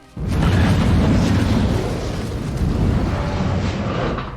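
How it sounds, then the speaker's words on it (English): A big, booming explosion bursts in suddenly and keeps rumbling loudly with heavy low-end roar for several seconds before slowly easing. "They set off a small explosion. No, wait, it's actually a big explosion."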